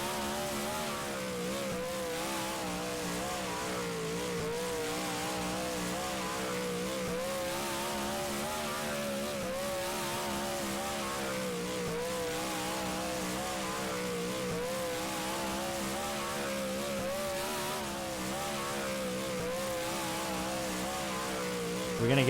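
Super Stock race car engine at Hartford in the racing game rFactor, a continuous loud buzzing drone with wavering pitch as the car laps, no voices over it.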